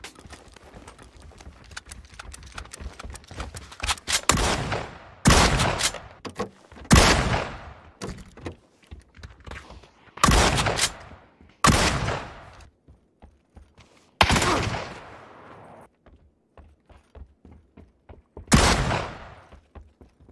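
Heavy shotgun blasts in a shooter game boom in irregular single shots, each a loud, sharp crack with a brief tail, separated by quieter stretches of footsteps and clicks.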